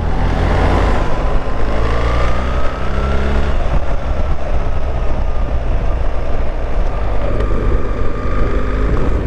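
A 2025 BMW R1300GS Adventure with automatic shift assistant rides along, its boxer engine a loud continuous drone mixed with heavy wind rush, pitch shifting slightly as it accelerates.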